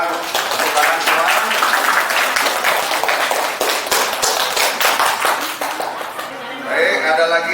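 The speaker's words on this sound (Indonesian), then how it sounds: "kita beri aplaus untuk kelompok 2. Tepuk tangan semua." A classroom group at a university in Makassar gets applause after presenting, with dense clapping from many hands that continues steadily before thinning out near the end.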